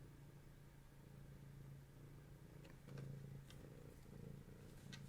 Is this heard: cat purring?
yes